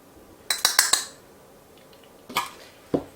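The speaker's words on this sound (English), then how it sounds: "I'm just going to stir this together with a fork" A fork stirs butter, flour, brown sugar and cinnamon in a bowl, giving a quick cluster of four metallic clinks followed by two separate taps after a pause.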